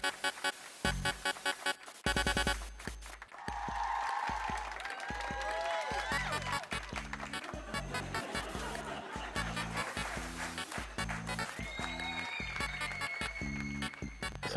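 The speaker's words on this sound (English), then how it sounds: "I just want to give you a round of applause for that" Applause and some laughter rise from a group over a rhythmic musical backing, with voices mixed in throughout.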